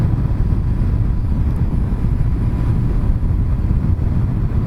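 Kawasaki Ninja 1000, a 2019 inline four-cylinder of about 1043cc, under way with a steady, dense engine drone and heavy wind roar, loud and continuous with no talk.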